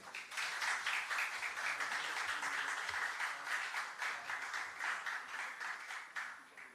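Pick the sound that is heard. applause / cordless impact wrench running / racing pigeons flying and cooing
applause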